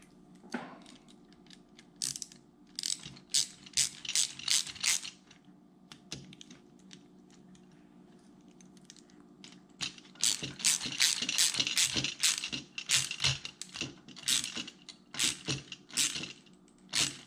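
A ratchet tightens the clamps on a squarebody C10/C15 truck's dual fuel tanks, rapid clicking strokes coming in repeated short bursts with brief pauses between, close and without talk.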